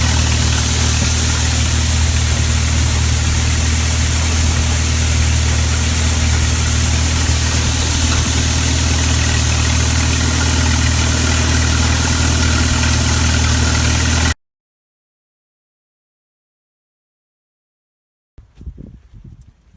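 A tractor engine idles steadily and loudly with a New Idea 324 corn picker at the start of corn harvest, a constant low rumble for about fourteen seconds before cutting to silence, followed by a brief faint rustle.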